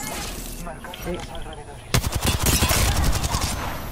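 Rapid bursts of automatic gunfire erupt in a shooter video game, loud and dense after a stretch of quieter sound, with excited voices talking over the shooting.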